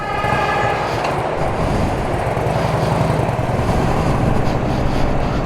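A 1984 Harley-Davidson FLT Tour Glide engine runs close and loud, with a steady, lumpy rhythmic throb that holds without a break and no voices over it.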